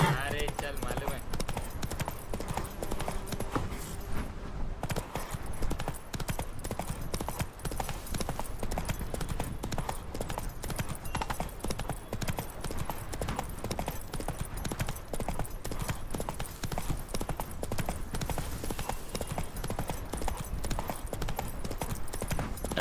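Horse hooves in The Witcher 3: Wild Hunt, a continuous rhythmic clip-clop of a galloping mount across the whole stretch, steady and fairly close.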